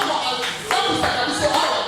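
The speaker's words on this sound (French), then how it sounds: "je sais pourquoi tu as applaudi" A person claps hands during a sermon, several sharp irregular claps close by over a couple of seconds, mixed with soft rustling.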